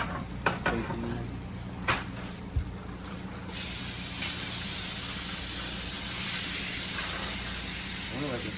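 A T-bone steak sizzles in a hot pan with a steady, loud hiss throughout, broken by a few sharp clicks early on as the meat settles, and the frying swells slightly louder in the second half.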